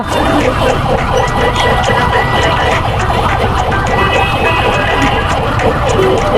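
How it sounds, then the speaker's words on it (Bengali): An ambulance siren wails continuously and loudly amid stalled traffic, its repeating tone cycling over a dense rumble of engines and street noise throughout. "অ্যাম্বুলেন্স অ্যাম্বুলেন্স সব আটকে রাখছে কি একটা অবস্থা"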